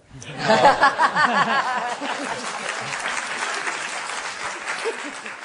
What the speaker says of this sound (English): I don't want to step on applause.